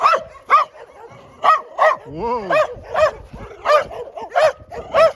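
A dog barks at a dead end in Dubovka, in Russia's Volgograd Region: loud, close barks come in repeated bursts, with a brief rising whine in the middle and a man's short exclamation.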